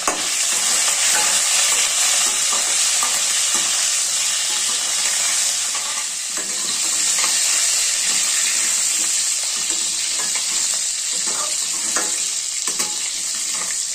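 Curry leaves and chopped onions crackle and sizzle loudly in hot oil, a dense continuous frying hiss with occasional stirring clatter throughout.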